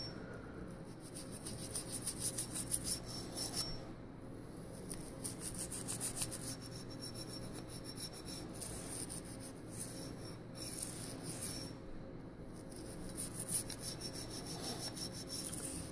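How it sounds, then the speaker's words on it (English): A brush loaded with CLP scrubs the grooves of a Glock 43 pistol slide, making close, rapid rasping strokes in several bursts separated by brief pauses. "So I grab my brush with the CLP on it and I give them a good scrubbing."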